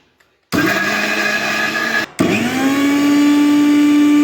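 A kitchen blender grinds soaked soybeans into a mince, starting abruptly with a loud steady whir, cutting out for a moment, then roaring back and settling into a rising, continuous hum.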